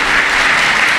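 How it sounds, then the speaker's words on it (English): Spectators at a youth dog show in 2021 give a brief burst of dense, continuous applause, loud and close, with no pause in the clapping. "Please give everybody a round of applause"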